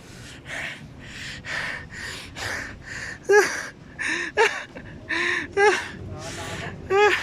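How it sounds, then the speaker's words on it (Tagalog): Heavy, ragged panting from someone out of breath on a trip up to a 360-degree viewpoint in San Mateo, Rizal: repeated sharp gasps and breaths in an uneven rhythm, close and fairly loud. "hingal pa rin ako"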